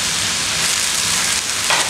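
Garlic sizzling and frying in hot oil for aglio olio, with a splash of pasta cooking water added; a steady, close hiss of frying fills the whole stretch with no talking.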